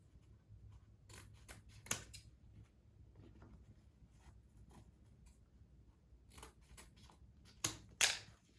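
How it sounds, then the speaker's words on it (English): Scissors snipping through colorful mesh ribbon for a wreath base, a few quiet crisp cuts spaced apart, with paper-like rustling and handling between them. "So I know that each ribbon is going to get cut 3 times."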